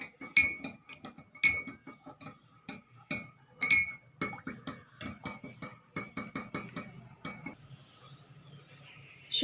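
A spoon stirs sugar into a glass tumbler of water, giving a quick, steady run of bright clinks against the glass for several seconds, close and distinct, with no talk.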